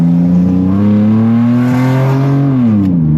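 A Nissan Skyline R34's RB inline-six engine revs loudly and close, its pitch rising smoothly and holding high before easing back down.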